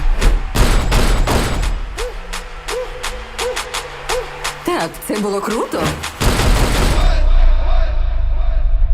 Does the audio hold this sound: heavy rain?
no